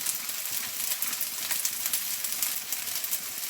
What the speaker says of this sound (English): Now spaghetti and stir everything together.